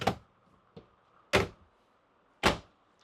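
A coat closet door in a 2021 Tiffin Open Road 36UA motorhome is opened, giving three sharp close knocks and thumps with a softer tap between them, each fading quickly into quiet.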